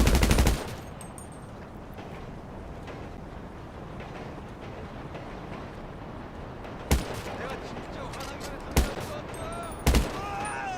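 Mark II rifle shots in GTA 5 Online ring out as a few sharp, isolated reports at irregular intervals over a low, steady game ambience.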